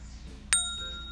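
A single notification bell ding sound effect rings out bright and clear, with a short metallic decay over faint background hiss.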